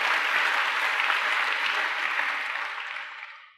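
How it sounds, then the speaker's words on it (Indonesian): Applause from a church congregation during a couple's sermon, dense steady clapping from many hands that fills the room and then fades out over the last second. "Tepuk tangan buat dia"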